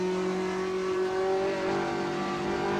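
A race car in the Assetto Corsa simulator, fitted with a digital dash and roll cage, drones at steady high revs on the Mosport circuit, a constant loud engine tone with a slight pitch shift midway, no voices.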